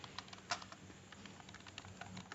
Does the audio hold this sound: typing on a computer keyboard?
yes